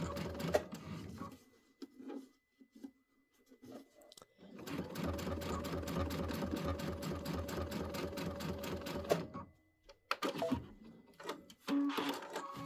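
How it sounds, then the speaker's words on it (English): A quilt seam is stitched across on a sewing machine, a steady run of rapid needle strokes lasting about five seconds. Short bursts and handling noises fall before and after it. "And then we're going to sew across here first."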